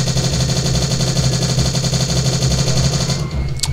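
Rapid automatic gunfire in the video game Strife rattles out in a dense, continuous burst, loud and close, then cuts off abruptly near the end.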